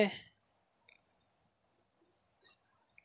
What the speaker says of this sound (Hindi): ओके पे क्लिक करेंगे